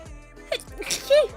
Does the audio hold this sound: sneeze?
yes